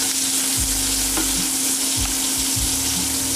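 Shrimp fry in a pan with a loud, steady sizzle and crackle, broken by a few low thumps and scrapes as they are turned over; close up, no talking.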